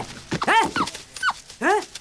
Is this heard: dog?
yes